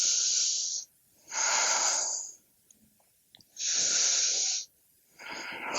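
Slow, deep yoga breaths, loud and close: long airy exhales and inhales alternate with short pauses, about four breaths in all, with no speech.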